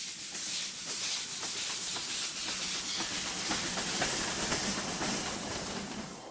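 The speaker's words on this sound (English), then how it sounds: "The steam locomotive will lead this final part of the Tren adventure to the last station of" A steam locomotive hauling a tourist train in Ecuador, heard as a steady loud hiss and rumble with faint rhythmic chuffing running throughout, continuous and close, with no voices.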